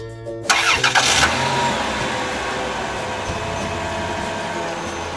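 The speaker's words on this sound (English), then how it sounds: "Ice cream van." An ice cream van on the road, its engine starting with a short burst and then running at a loud, steady drone for several seconds, with no voices.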